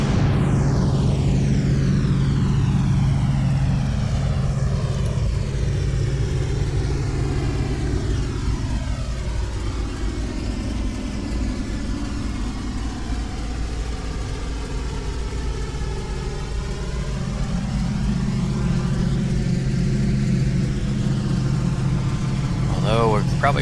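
B-17F bomber in a flight simulator taxiing down the runway in bad weather, a steady droning piston-engine rumble with a slowly sweeping propeller whine, loud and continuous throughout, with speech at times over it.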